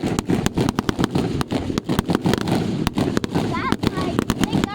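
Firecrackers going off at a neighborhood firework show in Dewitt, Nebraska, a rapid string of sharp cracks and pops over a steady rumble, with people talking nearby.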